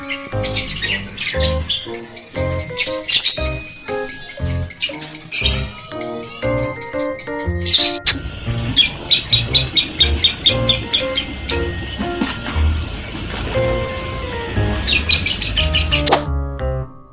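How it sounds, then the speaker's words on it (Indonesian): Loud, rapid chirps and shrill squawks from lovebirds close by, a busy chattering series of calls with brief pauses, no voices. "Berikut proses pengambilan suara lovebird dari kelompok 9 pagi."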